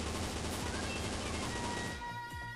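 Sustained automatic spray from an M249 machine gun in the mobile shooter CF Mobile, a dense continuous burst that runs loud and close before cutting off near the end, with a brief voice underneath.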